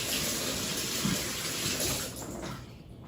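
Tap water runs steadily as a Ninja blender cup is rinsed, a continuous splashing gush close by that thins out and tapers off near the end.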